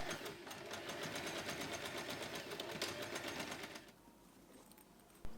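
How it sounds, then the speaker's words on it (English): Sewing machine running steady, rapid top stitching along the lining opening of a small snap-button wallet keychain pouch, close and even, stopping near the end with a brief click. "Then sew the opening in the lining with a top stitch, using matching thread for a neat finish."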